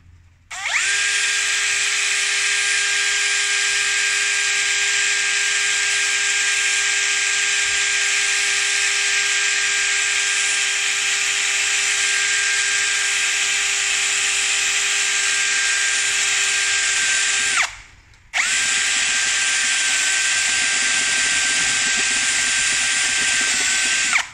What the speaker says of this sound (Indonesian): pakai pagoda ya, pakai drill